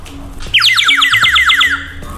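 A water-filled clay bird whistle, bought while shopping in Tirumala, gives a loud, rapid warbling trill for about a second and a half, bubbling like birdsong and heard up close.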